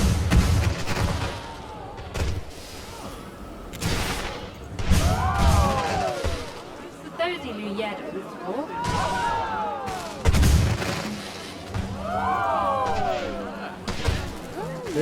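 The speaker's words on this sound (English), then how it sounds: "What we have going on over here is some fireworks." Fireworks in the theme-park game Planet Coaster 2 burst in repeated loud booms and crackles, with whistling rising trails between blasts, spaced across the scene while someone talks over them.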